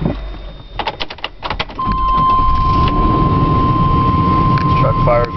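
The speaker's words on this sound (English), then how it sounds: "This truck fires right up." A few clicks, then the engine of a custom 1999 GMC Suburban 4x4 cranks and catches, settling into a steady, close idle with a faint whine above the rumble.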